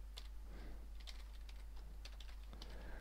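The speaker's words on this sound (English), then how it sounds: "So let's start typing." Quick, irregular clicks of typing on a computer keyboard, light taps in short bursts close to the microphone against a quiet, steady hum, with no one speaking.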